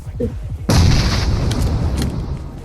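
In PUBG Mobile gameplay, a sudden loud blast of gunfire erupts after a short stretch of voice, followed by sustained booming noise with a few sharper bursts.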